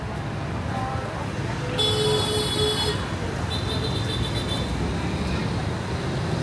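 Busy street traffic with motorcycles passing and a horn toot near the middle, steady roadway noise throughout with people talking over it.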